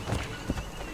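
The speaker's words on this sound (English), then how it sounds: "now we need a horse" Horse hooves clip-clop in a quick, uneven rhythm close by in the video game Assassin's Creed Odyssey, over a steady game ambience.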